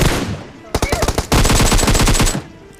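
Rapid automatic gunfire in a mobile battle-royale shooter game comes in quick rattling bursts. A short staccato run is followed by a longer sustained burst, loud and close over background game noise.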